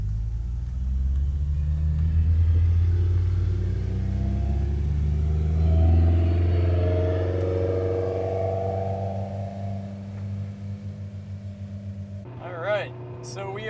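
Vincent's track-prepped Honda S2000 drives along a touge road, its engine giving a steady loud in-cabin drone and rumble with rising revs, then easing off near the end, with a brief higher whine at the close.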